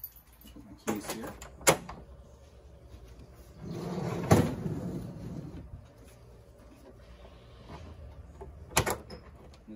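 A slide-out drawer on a 2020 Crossroads Zinger Lite 280BH camper is pulled open: a few sharp clicks and knocks, then a longer rumbling slide in the middle, followed by more light clacks, all fairly quiet and close.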